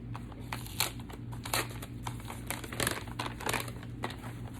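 Gift wrapping paper is torn and crumpled open from a swap box, giving a continuous close crinkling with several louder rustling bursts.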